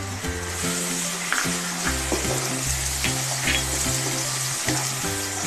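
Tomato puree sizzles in a pan over turmeric-spiced masala for a spicy Indian-style pasta, a bright, continuous crackle with occasional stirring, heard up close over background music.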